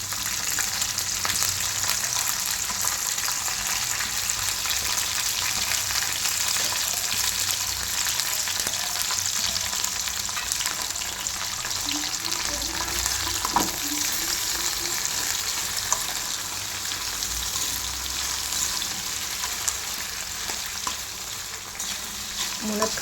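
Okra, carrot and drumstick pieces frying in hot oil for Telangana pappucharu, a steady close sizzle running continuously without pause.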